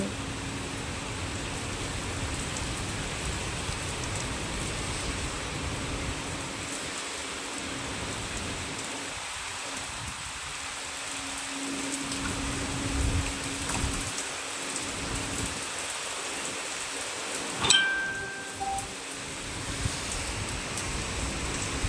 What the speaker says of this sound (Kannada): ನೋಡಿ ಜೋರು ಮಳೆ ಸ್ಟಾರ್ಟ್ ಆಯಿತು ನೋಡಿ